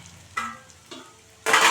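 Metal utensil scraping and stirring sautéed pirandai (veldt grape) in a pan for chutney, with a few short strokes and a louder sizzling burst at the end; no voices.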